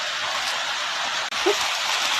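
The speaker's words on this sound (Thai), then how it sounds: "ฝนยังไม่หยุดเลย สองชั่วโมงกว่าแล้ว" Steady rain falls during an outdoor family meal, a soft continuous hiss of even loudness with one brief dip and a small knock partway through.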